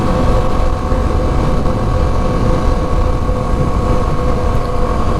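A 2023 Kawasaki KLX 300 dual-sport motorcycle cruises on a highway at about 80–85, producing a loud, constant engine drone mixed with heavy wind rush buffeting the microphone, with no speech.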